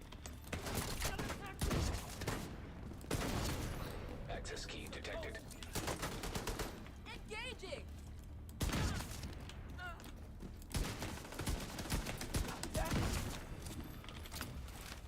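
Bursts of automatic gunfire and single shots from the shooter game The Division 2 crackle through a firefight, repeated volleys with mechanical clicks in between, under a voice talking.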